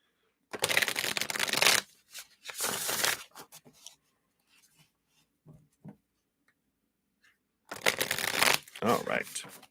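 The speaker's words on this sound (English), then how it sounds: "So let's shuffle these cards up here." Tarot cards are riffled and shuffled in several quick bursts separated by pauses, close and crisp, with a few soft handling noises in between.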